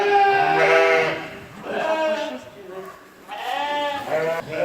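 Sheep bleat in several loud, wavering calls close by, with short pauses between them, among a flock being sampled for genetic testing after a suspected wolf attack.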